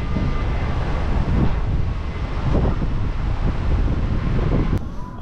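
Strong wind on the coast of Oahu, Hawaii, a continuous loud roar and buffeting against the microphone, with gusty surges throughout and no voices.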